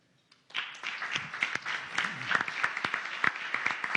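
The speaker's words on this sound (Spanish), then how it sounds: "Fuerte aplauso a la doctora Lucina Jiménez" Applause breaks out after a brief quiet start as the audience at an education panel on culture and arts claps, individual sharp claps standing out over a moderately sized, building round.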